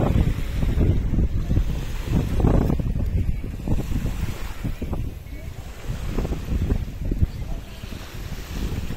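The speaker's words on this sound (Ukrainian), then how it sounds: "І ці хвилі, мені навіть не вірилося, що це озеро." Waves wash and break along the shore of a large lake near Bursa, a steady loud rush with wind buffeting the microphone throughout.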